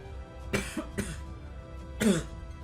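A person coughs three separate times in a quiet indoor setting during a Pokemon Showdown gaming session, each cough close and fairly sharp, with short gaps between and no talk.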